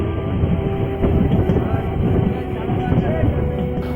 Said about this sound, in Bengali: চলছে আমাদের ট্রেন।